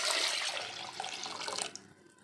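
Water splashes from a jug into a pot holding washed lentils, four tomatoes and five garlic cloves, a loud close gush that thins to trickles and drips within a couple of seconds.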